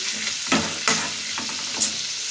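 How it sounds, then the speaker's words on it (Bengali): Fish is stirred into spice paste frying in a pan, giving a steady close sizzle with a few scraping strokes of the spoon. "এবার আমি মাছ মিশিয়ে নিই।"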